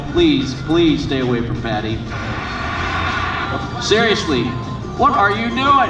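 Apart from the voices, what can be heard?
aerobatic airplane engine landing at an air show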